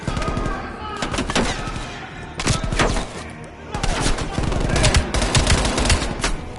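MP5 submachine gun fire in Call of Duty: Black Ops Cold War, loud close rapid bursts in several strings separated by short pauses, with a voice talking over parts of it.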